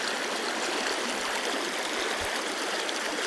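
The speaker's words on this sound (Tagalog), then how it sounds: "Ang problema natin ay tumawid dito sa madulas na ilog" A slippery river in Aurora rushes past in a steady, loud broadband wash of flowing water, close by and continuous, with no voices.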